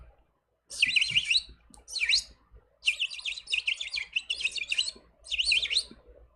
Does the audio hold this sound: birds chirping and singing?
yes